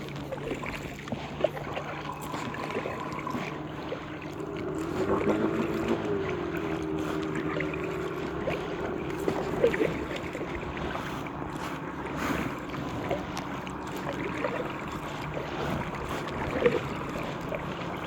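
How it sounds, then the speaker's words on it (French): A small gas outboard motor on a boat drones steadily in the distance over the St. Lawrence River, mixed with wind buffeting and faint background voices. "il allume son moteur à gaz."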